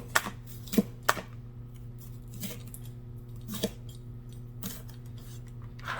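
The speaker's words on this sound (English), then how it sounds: "And then we're going to cut them into 4." Bell peppers being quartered with a knife on a board, a few sharp cutting clicks and thuds at irregular intervals, close and fairly quiet over a low background hum.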